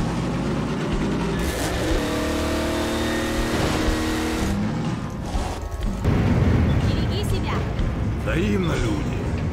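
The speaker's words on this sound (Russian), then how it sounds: "А вот и тачка." Car engine in Half-Life 2: Episode 2 revs and accelerates, a loud, close mechanical roar with rising tones. Impacts and rumbling come in later, and a voice talks over it.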